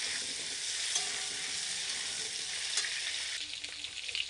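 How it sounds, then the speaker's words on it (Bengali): Potatoes fry in hot oil with a loud, dense sizzle and occasional stirring scrapes, easing slightly near the end. "এবার আলুগুলো দিয়ে দিব আলুগুলো নাড়াচাড়া করে একটু লাল লাল করে নেব"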